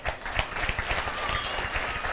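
An audience breaks into dense, steady applause at a motivational speech, many hands clapping together at a constant loudness with no pause across the short stretch.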